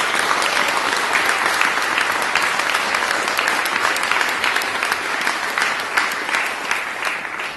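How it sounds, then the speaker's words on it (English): A church congregation at St Georges Church, Stamford applauds in a long, even, continuous round of clapping from many hands, filling the room at a steady level throughout. "Can we give them a round of applause?"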